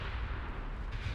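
Warship turret gunfire from a German 1920s fleet's aft turrets in the naval video game Ultimate Admiral Dreadnoughts: a heavy, low booming rumble that rolls on steadily through the brief moment, with no voices.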